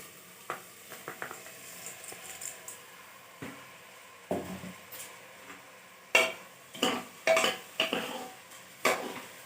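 Soaked rice goes into a cooking pot for egg biryani, with scattered scraping and clinking of a spoon against the pot and faint sizzling, growing into sharper, louder stirring knocks toward the end.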